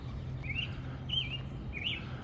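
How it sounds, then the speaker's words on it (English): Several birds chirp outdoors, with three short, bright, distinct tweets spaced across a few seconds over a low, steady background hum. "Them birds are really going at it."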